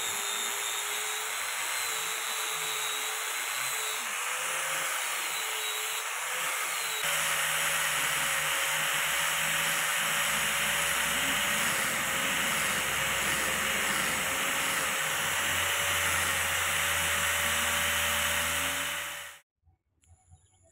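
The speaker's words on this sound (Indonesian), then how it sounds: "Setelah itu kita poles lagi teman-teman, mengikuti bentuk dari besinya" Power tool polishing a knife blade made from an old chainsaw bar, a loud steady whine and hiss that runs continuously and then cuts off abruptly near the end.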